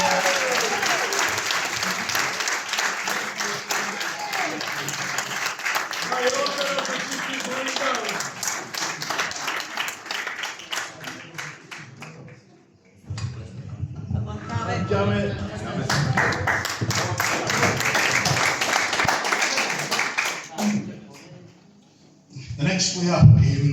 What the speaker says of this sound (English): Can we please have a round of applause and a celebration for Cameron McCaskill.